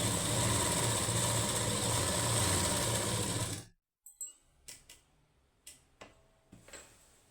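A sewing machine stitches saree falls in a steady, close mechanical run for several seconds, then stops abruptly, followed by a few soft scattered clicks and taps.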